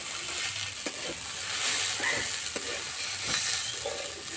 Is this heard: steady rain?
no